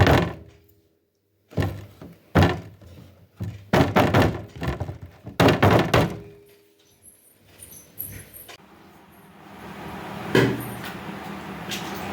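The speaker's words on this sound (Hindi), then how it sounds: "ओवन में इसे डालेंगे" Food goes into an oven, with a series of close, hollow thunks and clatters as the door and racks are handled, separated by short quiet gaps, then a softer rustle.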